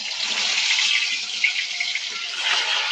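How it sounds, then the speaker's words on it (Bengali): Seasoned eggplant pieces fry in hot oil, a loud, dense, continuous sizzle with small crackling pops, close and steady with no talk over it. "এবার এই তেলের মধ্যে বেগুনগুলো ভেজে নেবো"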